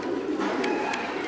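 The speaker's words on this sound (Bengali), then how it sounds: "কবুতরগুলো ভালো আছে" Pigeons, including Blackless birds, coo in a short, low, throaty burst, close, against steady room noise.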